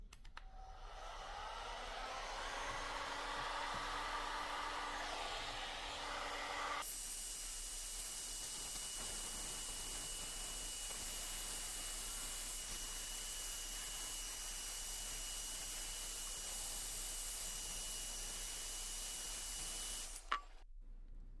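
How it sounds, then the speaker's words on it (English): A heat gun set to 200 degrees blowing on sappy wood, a steady hairdryer-like rush of air that runs on for most of the stretch after a softer, muffled start, then cuts off abruptly near the end. "The next thing we want to do is we use a heat gun"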